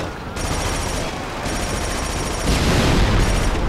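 Sustained rapid gunfire from Killzone 2 on Elite difficulty, a dense continuous rattle of automatic weapons with a harsher, louder stretch near the end.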